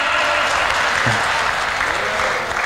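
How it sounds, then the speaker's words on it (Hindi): Dense, steady audience clapping at a comedy show, loud and sustained throughout without a break. "अब ताली तो बजा दी"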